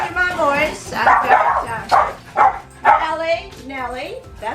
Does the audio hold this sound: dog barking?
yes